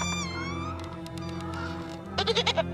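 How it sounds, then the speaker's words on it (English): A goat bleats in a video game about a young witch, a quavering cry repeated in several quick pulses near the end over a steady musical drone. "Lady, all I ask is you don't hurt my goat."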